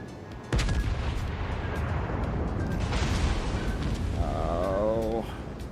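HE shells from a T-61 destroyer in World of Warships Legends land in a sharp boom followed by a long rumbling roar of naval battle, with another impact and a rising whistle-like tone near the end.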